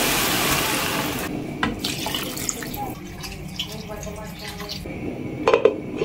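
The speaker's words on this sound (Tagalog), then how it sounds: "Dahil lata na siya, lalagyan ko na lang yun ng tubig." Water poured from a tap or container into a pot holding canned green peas in a home kitchen, a steady rushing splash at first, then quieter clinks of the pot and utensils.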